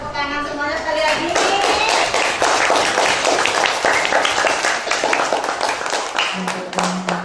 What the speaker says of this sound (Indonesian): Kasih tepuk tangan semuanya sekali lagi.